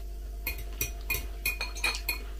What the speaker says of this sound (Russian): не скреби вилкой ложкой по тарелке